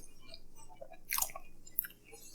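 Someone chews DiGiorno pepperoni pizza softly and close up, with one brief crunchy bite partway through over a quiet background.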